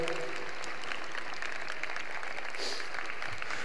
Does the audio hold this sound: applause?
yes